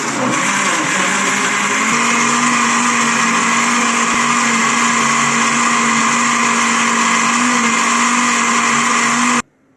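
An electric blender whirs loudly and steadily, blending a cup of yogurt for banana lassi. The motor runs at an even pitch for about nine seconds, then cuts off abruptly.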